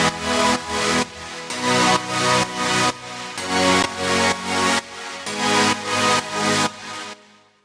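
Three Nexus synthesizers play together in high, mid-range and bass parts, pulsing in a regular rhythmic pattern of loud, dense bursts, close and without voices until a short fade at the end.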